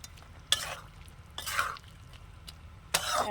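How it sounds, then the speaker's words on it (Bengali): Ridge gourd and spices get mixed in a pan in three separate bursts of scraping and stirring, each followed by a quiet lull with a faint low sizzle underneath. "এবার সব একসাথে কিন্তু আমি মিশিয়ে নেবো"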